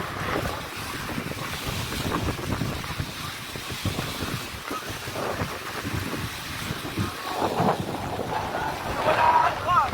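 Big waves churn and surge in rough water near Taal Volcano during an animal rescue, a loud broad wash of surf and wind rising and falling throughout with no clear talk.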